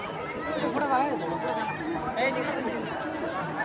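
A large crowd gathers and hurries to claim seats for a communal meal at a Harinam Saptah religious festival in Shrirampur, producing dense, steady chatter and babble with scattered voices and brief laughter close by.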